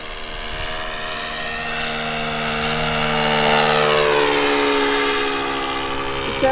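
A 1/4 scale Klemm L20 model airplane flies overhead, its engine droning steadily with a rich harmonic buzz that swells louder as it passes near, then eases slightly while it turns, with no talking.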